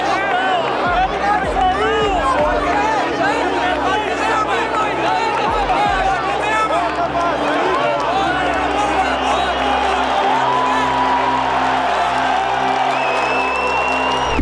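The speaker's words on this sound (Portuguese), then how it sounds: "A torcida gritando, vaiando, criticando o Campaz" Football stadium crowd roaring, shouting and booing at a player who has just been injured, a dense continuous wall of voices with whoops rising through it, steady and loud throughout.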